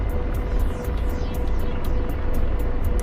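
Apache helicopter in a video game spooling up, a loud continuous engine whine under rhythmic rotor blade thumps repeating steadily and close.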